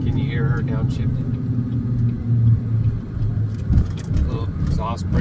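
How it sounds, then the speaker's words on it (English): A truck on a toll road downshifts, its engine giving a loud low rumble that rises and falls through gear changes, heard from inside the cab under a person talking. "Can you hear her downshifting?"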